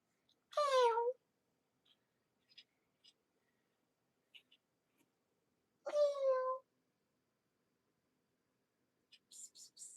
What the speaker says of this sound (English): she has a very enunciated meow sometimes